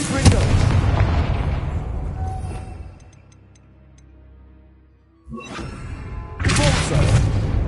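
A Confringo spell explosion from the Hogwarts Legacy video game erupts as a loud, broad blast, fades into a quieter rumble, then flares again with a second burst near the end.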